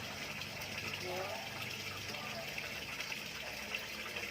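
A rice pot boils over on a charcoal stove, giving a steady, continuous rush of bubbling and gushing liquid that stays close and even throughout.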